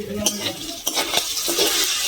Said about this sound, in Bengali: এই দেখুন, ভাজাটা কত সুন্দর হচ্ছে